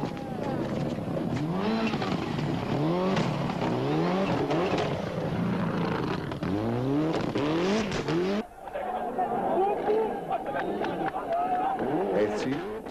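Mid-1990s Subaru Impreza rally cars race on gravel stages of the 1994 Acropolis Rally, engines revving loud and close in repeated rising sweeps as they pass, with a sharp cut to another nearby car midway.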